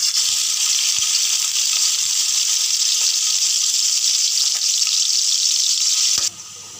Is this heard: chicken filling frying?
yes